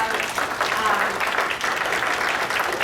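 A conference audience applauds, a dense, steady clatter of many hands clapping that carries on throughout.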